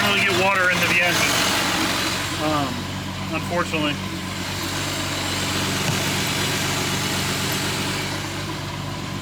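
A cheap used ski boat's engine idles steadily with a low, even rumble beneath someone talking over it.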